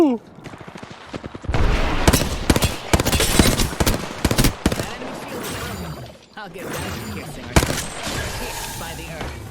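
Rapid automatic gunfire in the battle royale game Apex Legends, loud dense bursts of shots with pauses between volleys, while someone talks over the action.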